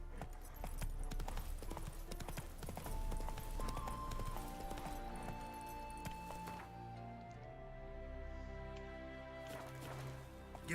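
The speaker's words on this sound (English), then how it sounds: "Whoa there, Roach." A ridden horse in The Witcher 3 video game clip-clops along in a steady rhythmic walk, hooves prominent and close over game music and ambience.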